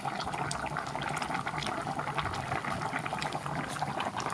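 Pork bones simmer in a pot of water, giving a continuous close bubbling and roiling with no voices over it.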